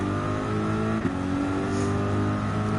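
Engine roar of AMG race cars accelerating on the Nurburgring circuit in Gran Turismo 7, a steady, loud, continuous drone with a brief shift blip midway, no talking.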